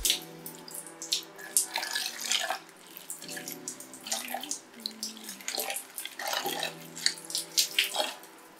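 Kitchen tap water pours into a water bottle being refilled, a steady splashing rush with gurgling surges and shifting pitch as the bottle fills, close and alone.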